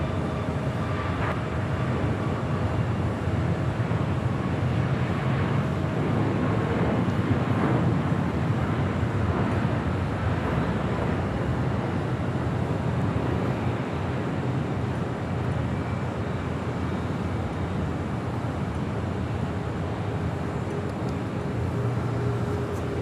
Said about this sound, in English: That is Southwest Airlines Flight 1980 heading to Kansas City, a 737 MAX 8.